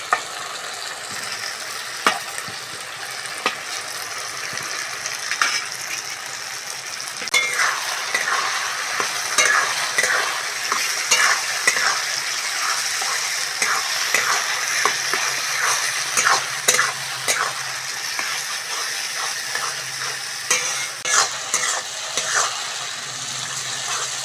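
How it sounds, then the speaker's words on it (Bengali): Fried potatoes stirred and cooked with spice paste for cauliflower egg curry, a continuous close sizzle with repeated scraping and stirring clatters throughout. "আলুটা মশলার সঙ্গে ভালো করে কষে নিয়েছি,"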